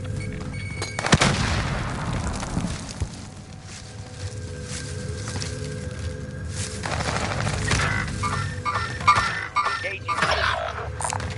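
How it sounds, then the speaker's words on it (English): A grenade blast booms sharply in Call of Duty Warzone, a loud close burst followed by rumbling gunfire and scattered shots that continue through the rest of the moment. "Grenade out!"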